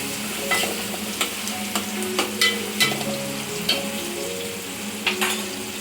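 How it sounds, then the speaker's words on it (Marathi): Onion and tomato sizzle steadily in hot oil as the base for a prawn curry, with a spoon scraping and stirring the pan at regular intervals. "कांदा टोमॅटो छान असा फ्राय करायचा तेलामध्ये"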